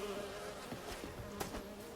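Sentient bees in The Witcher 3: Wild Hunt give a continuous, steady insect buzzing that fills two seconds at low level, with no voices over it.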